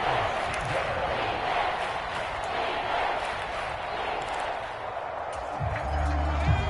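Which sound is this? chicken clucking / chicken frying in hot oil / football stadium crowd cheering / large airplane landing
football stadium crowd cheering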